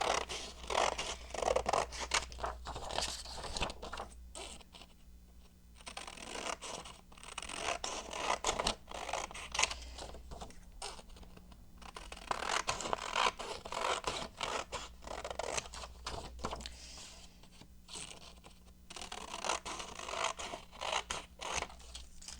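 Scissors snip and scratch through craft material in bursts of close cutting and rustling, with short pauses between runs of strokes and no speech.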